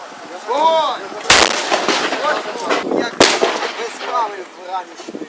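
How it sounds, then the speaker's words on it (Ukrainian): Soldiers returning fire during a mortar shelling in eastern Ukraine: two heavy, sharp blasts stand out amid scattered nearer shots, with raised voices calling out in between. "Наші солдати, звісно, почали стріляти у відповідь."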